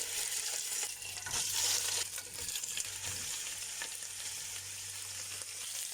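Oxtail pieces sizzle in hot butter and corn oil with cardamom and mastic, a steady broadband frying hiss with faint stirring clatter, close and continuous throughout.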